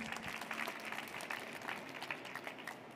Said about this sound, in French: On peut l'applaudir pour l'encourager.